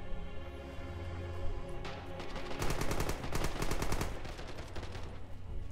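Sustained machine gun fire rattles in fast bursts from an MG in the World War II shooter Red Orchestra 2, with a steady drone of battle ambience underneath and the firing swelling loudest in the middle.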